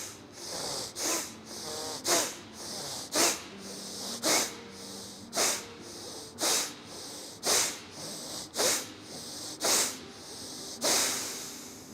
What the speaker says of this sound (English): There will be a gentle snuffling sound from your nose.